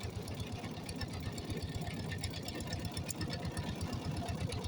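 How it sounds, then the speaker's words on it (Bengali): A small boat's motor runs at dusk on the Dhaleshwari river, giving a fast, even mechanical chugging that stays steady and moderately close throughout. "অনেক দ্রুত চলছে নৌকা।"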